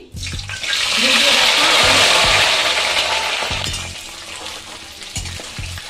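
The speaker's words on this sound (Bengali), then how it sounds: "আলু আর ফুলকপিগুলো দিয়ে দিলাম আগে আমি ভেজে রেখেছিলাম আবার ফোড়ন দেওয়ার পরে কড়াইতে আমি তেলের মধ্যে এগুলো দিয়ে দিলাম" Potatoes and cauliflower dropped into mustard oil in a wok over tempered spices erupt into a loud sizzle that swells then eases, with clinks of a spatula against the metal.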